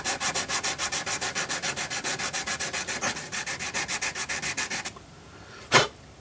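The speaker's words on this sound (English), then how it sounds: "This is 240 grade paper and I'm just going to wrap it tightly around the dowel." A wooden dowel is sanded by hand with 240 grade sandpaper wrapped around it, giving a steady rhythmic back-and-forth rasping, close and loud, that stops near the end, followed by one brief scrape.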